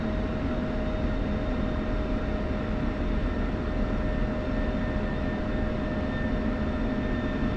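An F-16 taxiing in the Falcon BMS flight simulator, a steady, even jet engine roar with a constant whine, continuous and close, no voices.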